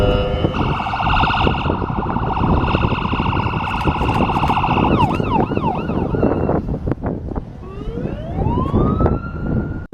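An ambulance siren wails loud and close at a traffic scene, first with a rapid warbling yelp, then shifting to rising and falling sweeps over road rumble, with no talk.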